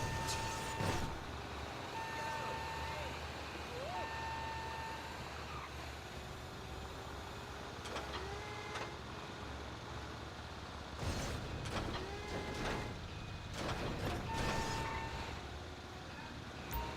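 A container handler in the GTA V video game backs up at a dock, its reversing alarm giving evenly spaced beeps over a constant engine rumble, with occasional clanks and mechanical creaks.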